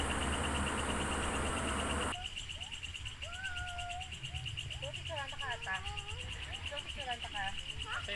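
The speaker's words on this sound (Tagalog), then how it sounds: "ngayon lang ulit ako nakarinig ng mga kuliglig" Crickets chirp at night at a beach nature resort, a steady high pulsing trill running throughout, first masked by a loud broadband noise, then clearer with scattered bird-like calls over it.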